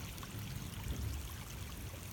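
Water trickles out of a small hole in the ground, a steady soft gurgling flow, close and continuous, with no voices.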